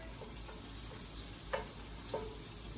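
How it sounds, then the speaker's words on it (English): Olive oil and butter sizzle quietly in a frying pan, a low steady hiss with two faint clicks partway through and no talking. "put a little bit of olive oil back in the pan and some butter"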